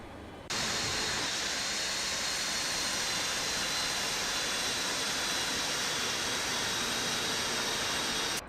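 A Boeing 747 Classic's jet engines in the X-Plane 12 flight simulator give a steady, loud broadband roar that starts abruptly and holds unchanged to the end, with no voices.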